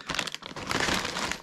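A bag of thin, fine salted potato chips from Madrid is torn open with crisp plastic crinkling and rustling, continuous and close for a moment.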